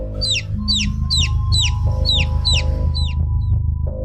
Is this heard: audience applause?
no